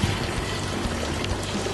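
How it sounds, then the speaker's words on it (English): Hot water from a pot of boiled pork is poured off, giving a brief, loud, continuous splashing and gushing stream close by. "drain off all the water from here."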